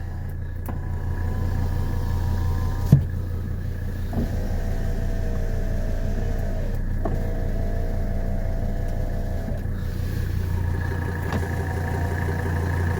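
Power windows on a 1984 Mercedes 300D whir up and down in several separate runs, each a few seconds long, over the steady low rumble of the idling diesel engine, with a sharp click between cycles.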